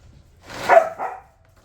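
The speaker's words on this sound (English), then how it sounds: "Come on, dogs." A dog gives one sharp bark followed by a second, shorter one, both fairly close and standing out against a quiet background during work on moving a metal table upstairs.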